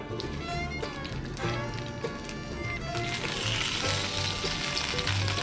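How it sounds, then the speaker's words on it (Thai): Radish cake (khanom phakkat) frying in about four tablespoons of oil in a pan, giving a dense, continuous crackling sizzle. It sounds close and loud throughout, with occasional soft tapping. "ขั้นตอนนี้นะครับมาทอดขนม ผักกาดกันเลยครับเพื่อนๆ ก็ใส่น้ำมันลงไป4ช้อนโต๊ะนะครับ"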